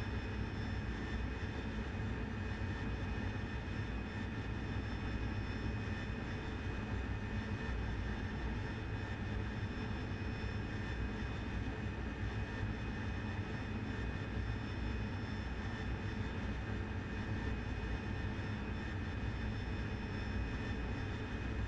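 Steady, dense roar of an AV-8B Harrier jet engine in cruise flight at night in a flight simulator, a continuous broadband drone with faint tonal whine and no pauses.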